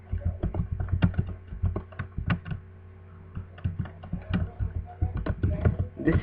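Computer keyboard typing out a line of HTML heading text, with steady bursts of close, crisp key clicks, a short pause midway, then more rapid keystrokes.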